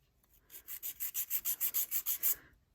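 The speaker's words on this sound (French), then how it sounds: "la première étape, en fait, ça va être de limer. Je pose ma lime bien droite comme ça." A nail file rasps across a fingernail while shaping a nail before applying a nail form, a quick run of about ten short, even strokes, close and crisp with nothing else heard.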